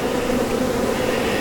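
A steady, dense hum of honeybees fills an opened hive box during spring colony splits. The buzzing is loud and close and carries on unbroken, with no voices over it.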